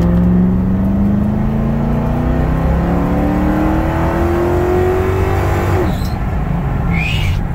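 A Lincoln Town Car accelerating hard with the pedal to the floor, heard from inside as a loud, steady engine drone whose pitch climbs and then drops at a gear shift.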